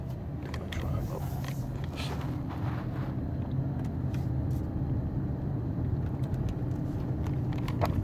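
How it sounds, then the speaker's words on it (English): A car drives slowly up a small path on an autumn sightseeing drive through Riverdale, its steady low engine and road rumble continuous and close throughout. "Think I'll drive up."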